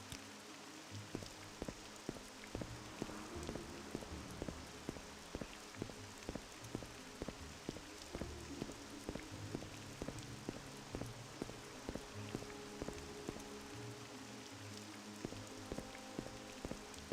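Rain falls steadily in the video game Morrowind, a soft continuous patter of drops on surfaces with many faint irregular ticks, quiet and even throughout with no voices.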